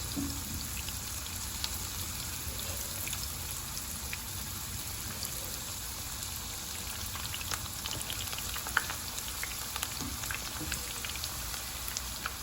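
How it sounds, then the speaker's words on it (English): Steady, faint crackling sizzle of peeled raw pumpkin frying in a pan over low heat, a constant hiss with scattered small pops throughout and no talking. "I just peel it and I'm frying it."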